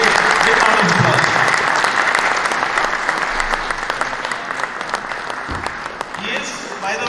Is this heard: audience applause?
yes